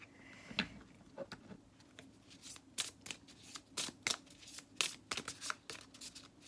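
Tarot cards being shuffled close up, a quiet run of soft riffling flicks and snaps in an uneven rhythm, with no talking.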